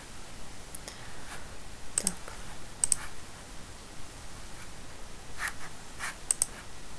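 Computer mouse clicks while working in the Interacty web service, a sparse series of sharp single and double clicks spread over a quiet background hum, with no talking.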